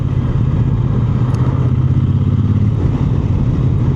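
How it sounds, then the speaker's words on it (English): A Triumph T120 motorcycle engine runs at a steady, loud drone with a deep low rumble and mechanical clatter, heard alone without any talk. "If you want a nice bike, get a Triumph T120."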